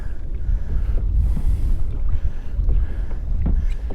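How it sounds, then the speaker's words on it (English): Strong gusting wind buffeting the microphone during kayak fishing in a Recon 120HD kayak, loud continuous rumbling roar with surging gusts and faint water sounds, no talk. "This damn wind's crazy."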